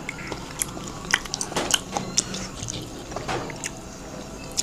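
Adobo chicken feet being bitten and chewed up close, with a run of wet, crunchy, irregular snaps and smacks spread over a few seconds, with faint background sounds.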